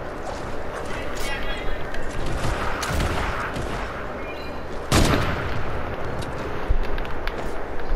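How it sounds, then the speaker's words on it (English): Video game shotgun blasts and other weapon fire crack out repeatedly, with one sharp loud shot standing out amid continuous chatter from a player talking over the action. "My shotgun aim is so good."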